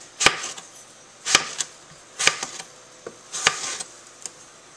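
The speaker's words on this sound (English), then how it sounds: "Thin, even slices here." A knife cuts apples into thin, even slices on a board. Each stroke ends in a crisp, close chop, about one per second, and softer taps fall between the chops.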